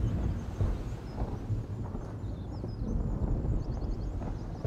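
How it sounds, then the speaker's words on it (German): Thunderstorm in a fishing video game: a low, rolling rumble of thunder with wind and soft rain noise, continuous and moderately loud, with faint high chirps above it and no speech. "Das ist ein Gewitter."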